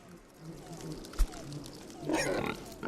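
Pig grunting in the video game Datura, a few low, brief snorts amid a rushing, watery background, with a sharp thump near the middle and a louder noisy burst toward the end.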